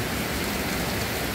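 Heavy rain pours down close by, a dense, steady hiss that stays loud and even throughout, with no voices over it.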